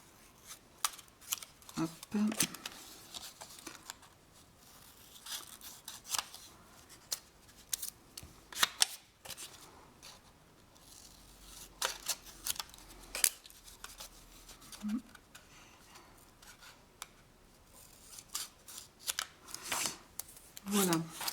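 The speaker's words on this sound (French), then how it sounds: "Avec un petit ciseau, on va couper tout ça." Small scissors cut through paper during a mini album craft session, giving a series of short, close snips and crisp rustles in irregular bursts, with a few brief words spoken between cuts.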